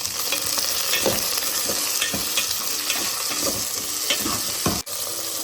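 Okra sautés and softens in a pan for a tangy okra stew, giving a continuous close sizzle with repeated scraping strokes of a stirring spoon.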